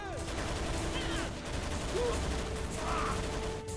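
Rapid gunfire bursts from the shooter game Shadow Ops: Red Mercury, dense overlapping shots with a quieter voice talking underneath.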